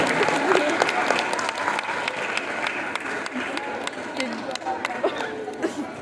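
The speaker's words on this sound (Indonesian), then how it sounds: "Tepuk tangan untuk kakak kelas kalian MA Asmania." Students at an Islamic boarding school event applaud their senior classmates, a full crowd clapping steadily with background chatter and some laughter running under it.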